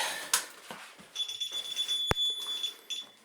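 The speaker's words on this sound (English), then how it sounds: "that's my alarm" A high, steady electronic beep tone sounds for a couple of seconds, with a sharp click partway through and faint room noise around it.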